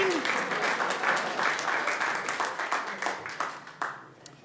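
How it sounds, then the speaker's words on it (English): A church congregation breaks into a big round of applause, dense steady clapping from a crowd that thins into scattered claps toward the end, with faint voices mixed in. "Big round of applause for Wayne."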